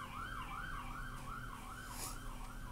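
A wailing emergency siren rises and falls in a steady, repeating cycle, moderately distant over a low traffic rumble.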